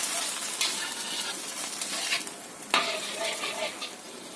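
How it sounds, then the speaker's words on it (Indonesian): An oyster sauce mixture bubbles and sizzles in a pan with chicken and wilted greens, with steady close-up stirring and occasional scrapes and clinks of a utensil against the pan, and no talking. "Kita masak sampai mendidih"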